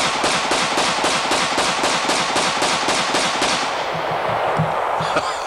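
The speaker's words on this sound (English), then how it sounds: "just to show you what a 15-shot 45 ACP looks and sounds like" Rapid string of about a dozen loud gunshots from a 15-shot .45 ACP 1991 Colt pistol, fired in quick even succession at a target, then stopping as low rumbling and faint background voices remain.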